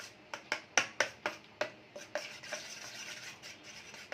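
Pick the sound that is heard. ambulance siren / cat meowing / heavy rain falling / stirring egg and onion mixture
stirring egg and onion mixture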